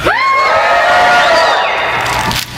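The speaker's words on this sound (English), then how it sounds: "Big cheer." A church audience gives a big cheer, a loud, brief swell of many voices shouting and whooping together that fades after about two seconds.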